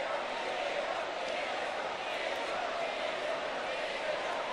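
A concert crowd at a Magical Mirai 2019 live show chants for an encore, a dense, steady roar of many voices at moderate distance, with the rhythm loose and unsynchronized.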